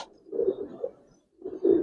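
A female Giribaz pigeon of the old-generation line coos close by, two soft, throaty rolling calls separated by a brief pause, low and quiet in an otherwise still room.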